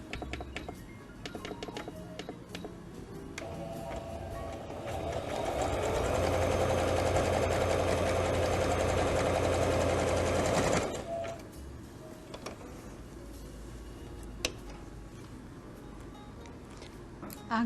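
A sewing machine runs a zigzag stitch to hold a bag's fabric in place before the lining goes on, a steady loud mechanical whir lasting several seconds with softer handling sounds before and after.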